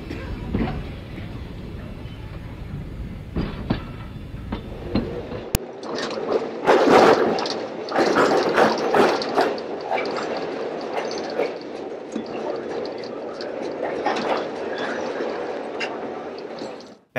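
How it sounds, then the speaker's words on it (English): Pair of steel Northwestern Pacific interurban railroad cars arriving at a station, a rumbling approach giving way to clattering wheels and rattling bodies that rise and fall over several seconds. "A southbound pair of steel cars arrive into Park,"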